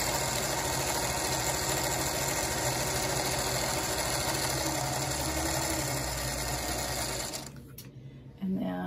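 A sewing machine stitches quilt pieces at a fast, steady whir, running continuously and loud before stopping abruptly near the end, leaving a brief quieter tail.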